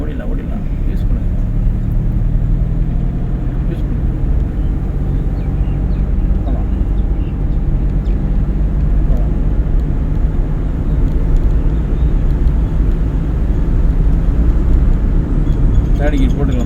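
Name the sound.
car driving during a driving lesson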